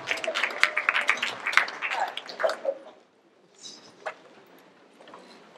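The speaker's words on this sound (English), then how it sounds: "Now give yourselves another round of applause." An audience at a civic meeting in a Catholic church gives itself a round of applause, a burst of crowd clapping that stops abruptly at about three seconds, followed by quiet room sound.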